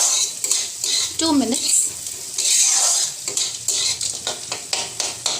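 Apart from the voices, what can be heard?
stirring food in a cooking pan, paneer butter masala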